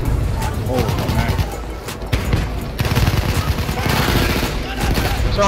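Rapid bursts of gunfire in a video game, dense and loud, sustained volleys with booming impacts, while voices talk over the shooting.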